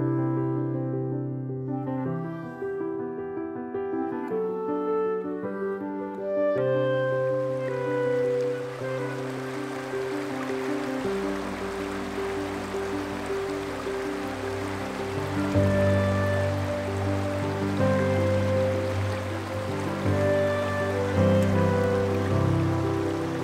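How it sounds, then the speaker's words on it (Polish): Continuous rushing of a small stream flowing toward a larger river beside a road on Scotland's North Coast 500 route, steady and fairly close, with a faint tonal background layered over the water. "Strumyk pływa do większej rzeczki po drugiej stronie drogi."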